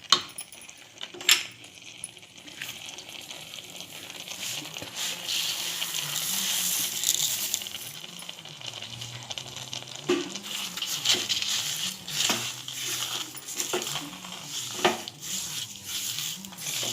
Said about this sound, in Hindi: अब मैं इसमें शक्कर डालूँगी।